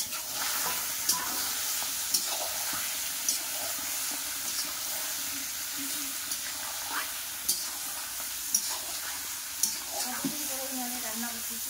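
Duck meat goes into a pan of frying potatoes and onions on a gas stove, giving a faint, soft sizzle broken by light, regular stirring scrapes and clicks, heard at a low level.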